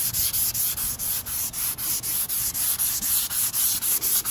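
Wet sanding a 2003 Cadillac CTS driver's quarter panel by hand, a steady rhythmic scrubbing with about three strokes per second, close and continuous, with no talking.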